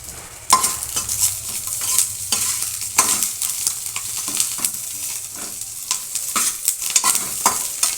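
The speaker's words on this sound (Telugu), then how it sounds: "మిరపకాయలు ఇలా దించుకొని ఎర్రగా ఎంచుకోవాలండి." Green chillies fry in oil in a pan for a Rayalaseema dish with bandakaya, a close, steady sizzle broken by repeated scraping stirs of a utensil against the pan.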